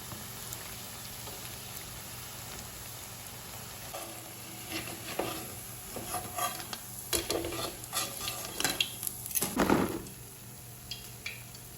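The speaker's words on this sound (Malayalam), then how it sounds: "മുഴുവൻ മുട്ടയും നമ്മൾ ഫ്രൈ ചെയ്ത് കഴിഞ്ഞു." Eggs fry in hot oil for street-style egg 65, a steady sizzle that runs throughout with occasional scrapes and clatters of stirring growing busier toward the end.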